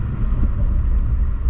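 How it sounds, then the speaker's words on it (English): An Acura TLX Type S on all-season tires makes a panic stop on a plowed, lightly dusted snowy street, heard from inside as a loud, steady low road rumble and engine drone with no voices. "I'm gonna do a little bit of a panic stop here just to see"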